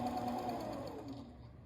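A sewing machine stitching a pillow, a close, rapid mechanical hum with a quick rhythmic chatter that eases off slightly toward the end, with no voices over it.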